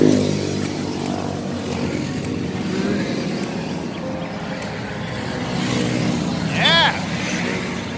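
Isuzu D-Max pickup driving on a road in Davao del Norte, a steady engine drone and road rumble running throughout with a brief rise midway, while people talk over it.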